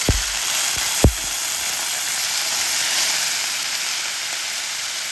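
Ginger paste and water hitting hot oil with cumin seeds in a pan, giving a loud, continuous sizzling hiss that holds steady after a couple of quick clicks at the start.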